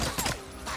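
A Chicago chopper submachine gun in Days Gone fires at a horde, with a quick rattle of harsh bursts packed into under a second over a dense, noisy game background.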